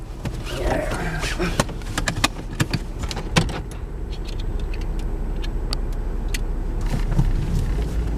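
A car drives along steadily, its engine and road noise forming a loud continuous rumble, with scattered clicks and rattles from inside the cabin and no one talking.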